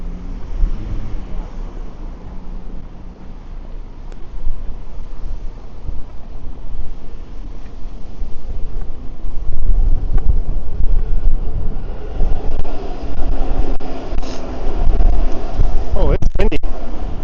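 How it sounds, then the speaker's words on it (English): Strong wind buffets the microphone on a city street in Toronto, a loud, rumbling low roar that swells and gusts, growing heavier partway through, with a few brief sharper sounds near the end. "Oh, it's windy."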